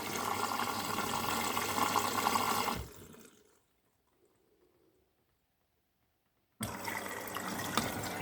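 A Hoover washing machine over 18 years old filling with water, a loud steady rush that cuts off into near silence for a few seconds before the inflow resumes just as strongly.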